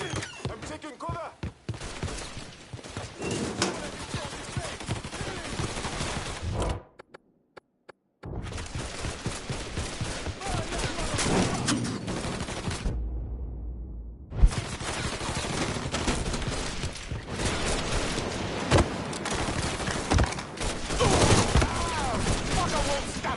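Dense bursts of gunfire fill a Mafia 3 firefight, rapid shots running in long volleys with brief silent gaps, loud and close, with voices talking over the shooting.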